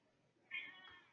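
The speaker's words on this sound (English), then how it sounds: "Why does the mech meow? I brought the cat with me." A pet cat meows once, fairly close and clear, a short rising-and-falling cry alone over quiet background.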